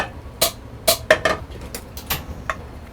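Drained spaghetti is tipped into a pan of carbonara sauce, giving about eight sharp metallic clinks and clatters at irregular intervals, close by with no talking.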